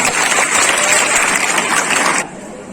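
A school audience greets a house's stage play with loud, dense clapping that holds steady for about two seconds, then cuts off abruptly.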